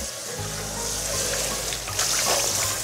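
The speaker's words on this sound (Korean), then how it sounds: "물을 틀어서 가볍게 1차 헹궈 주세요" Tap water runs steadily and splashes while salted napa cabbage is rinsed in a sink, a continuous hissing gush that gets slightly louder and more spattery partway through, with no talking.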